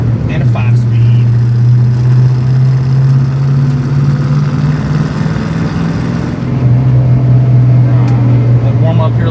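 A built 351 engine in a 1966 Ford Mustang coupe runs on high idle while warming up, a steady loud low drone that holds throughout with a slight dip and return, while someone talks over it.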